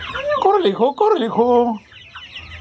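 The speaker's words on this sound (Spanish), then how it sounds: "Andan siguiendo las aves, las gallinas." Chickens cluck and squawk close by in a backyard, a run of rhythmic, throaty calls that fades toward the end, with a voice speaking briefly over them.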